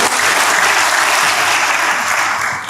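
A church congregation breaks into loud, sustained applause, a dense wash of many hands clapping together at steady volume with no speech over it.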